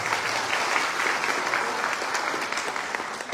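A crowd at a university academic-year inauguration ceremony in Chilca applauds, a thick, even roar of many hands clapping, loud and sustained without speech.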